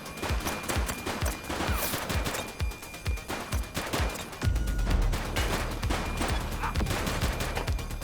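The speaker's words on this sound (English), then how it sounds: "He's shooting." Repeated gunfire from a police shootout in The Precinct video game, with an Uzi and a Scorpion in use: dense bursts of sharp shots crackling throughout, loud and close, with a heavier low rumble building in the second half.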